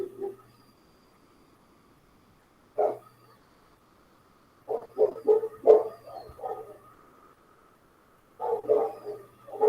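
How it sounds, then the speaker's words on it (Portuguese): A dog barks excitedly in short repeated bursts from somewhere near an open window during an online class, the yaps coming in clusters separated by quiet gaps. "O cachorro está animado aqui, atrapalhando o nosso áudio."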